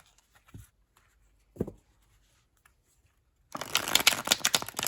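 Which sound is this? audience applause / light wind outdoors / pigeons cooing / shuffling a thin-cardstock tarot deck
shuffling a thin-cardstock tarot deck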